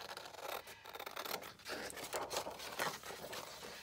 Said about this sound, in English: Let's just cut him out, see if he'll work on there.